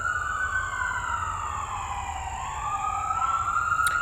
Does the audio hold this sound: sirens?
yes